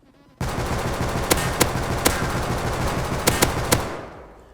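Rapid automatic gunfire from a weapon hip-fired in the survival game Rust, a loud continuous burst of about four seconds with a few sharper impact cracks, then a quick fade.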